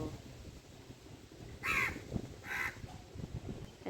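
A crow caws twice in a city on a cold, windy day, the two harsh calls about a second apart and moderately distant over a low rush of wind.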